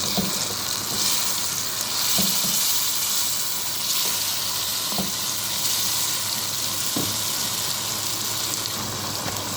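Onion and tomato sautéing in a pan for a rice dish with meat and vegetables, giving a steady, close sizzling hiss broken by a few soft stirring knocks.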